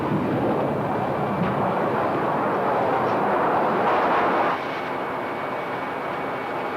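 A United Airlines Boeing 727 climbing out after takeoff from Denver, a loud, steady broadband engine roar heard from inside the cabin that eases slightly toward the end.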